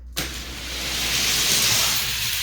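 Die-cast Hot Wheels toy cars, including a yellow Ferrari, race down a quarter-mile style track; a sharp click at the start gives way to a steady, swelling rolling whir that holds to the end.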